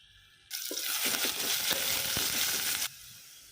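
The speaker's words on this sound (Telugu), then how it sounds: "పించ్ ఆఫ్ ఆవాలు, పించ్ ఆఫ్ జీరా స్లైట్‌గా ఫ్రై చేసుకుందాము" Mustard seeds and cumin hitting hot oil with sliced onion, a sudden loud close sizzle that bursts in, holds with crackling pops and stirring, then cuts off after a few seconds.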